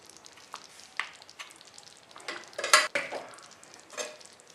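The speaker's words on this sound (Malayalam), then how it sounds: "നമുക്ക് സ്റ്റൗ ഓഫ് ചെയ്യുന്നതിന് മുന്നേ ഇതിലേക്ക് ഞാൻ കുറച്ചും കൂടെ നെയ്യ് ചേർക്കുക" Ghee is added to jaggery payasam cooking in a pan, with soft sizzling, a spoon stirring, and a few light clinks of utensil against metal, close and quiet with no talk.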